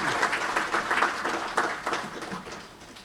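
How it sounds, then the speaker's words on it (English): Applause from an audience honouring the Governor at the launch of The Gambian Capital Market, a dense, steady round of clapping lasting about three seconds, moderately loud with no voices over it. "let's give another round of applause to the Honorable Governor"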